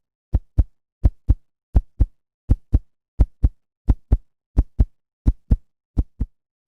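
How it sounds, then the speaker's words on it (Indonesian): Heartbeat sound effect with about thirteen evenly spaced double thumps, each a deep lub-dub pulse, steady and close against silence. "sebelum masuk ke ceritanya narasumber saya mau ngaktifin dulu mode detak jantung"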